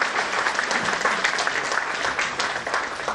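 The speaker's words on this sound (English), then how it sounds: "Can we have a round of applause, please?" An audience at a speaker series applauds as two speakers are invited onto the dais. The clapping is full and steady, a close, dense crowd sound lasting the whole moment.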